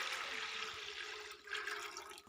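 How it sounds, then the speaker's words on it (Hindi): Water poured into a pot of washed chana dal, a continuous rushing splash that eases briefly and surges again before stopping. "चार गिलास पानी डाल लेंगे।"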